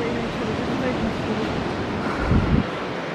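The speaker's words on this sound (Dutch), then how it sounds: "Het waait heel hard." Strong wind buffets the microphone on the high, swaying Caminito del Rey mountain walkway in Spain, a constant loud rushing roar with a brief louder gust near the end and a voice faintly underneath.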